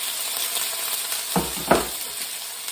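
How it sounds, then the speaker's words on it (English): Steady sizzling of gnocchi frying in butter in a hot pan, with a couple of soft clinks partway through. "There's that sizzle."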